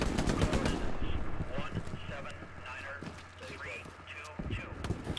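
Tank machine gun fire in the Hell Let Loose game, a rapid burst of shots sounding under steady background battle noise while several players talk over radio throughout.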